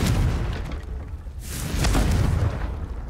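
A Confringo blasting spell goes off in a wizarding video game, giving a loud, deep booming explosion that swells and rumbles across the whole stretch, with a second burst rising midway.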